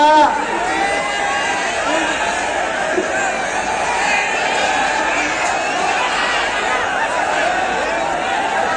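Spectators at a wrestling match in Harsul, India, make a loud, steady commotion of overlapping shouts and chatter close by, with a voice talking over the crowd throughout.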